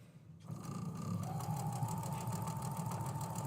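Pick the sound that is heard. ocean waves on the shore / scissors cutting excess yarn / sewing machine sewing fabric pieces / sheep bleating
sewing machine sewing fabric pieces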